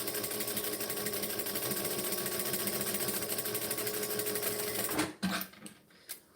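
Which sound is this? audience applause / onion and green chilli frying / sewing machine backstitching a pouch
sewing machine backstitching a pouch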